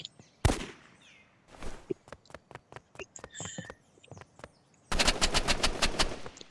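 Pistol gunfire in a video game: a loud opening shot, then a rapid string of sharp single shots through the middle and a dense, loud volley at the end, with no one talking.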